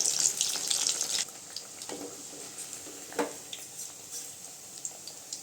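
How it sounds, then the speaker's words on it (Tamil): Parboiled plantain slices crackling in hot oil in a pan, a bright sizzle at first that settles into quieter intermittent pops and scrapes, close and fairly soft. "இது ஏற்கனவே நம்ம வேக வச்சதுனால சீக்கிரமாக பொரிஞ்சு பொறிஞ்சு வந்துடுங்க"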